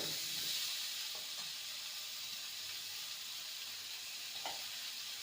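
Pointed gourd (potol) frying in a pan over a low gas flame, a steady soft sizzle and hiss throughout with a few faint clinks of stirring.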